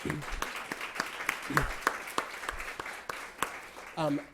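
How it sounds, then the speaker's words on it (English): An audience at an institute on language development and family engagement gives uneven applause with distinct individual claps rising and falling, and a voice speaks over the end. "please join me in giving them a round of applause."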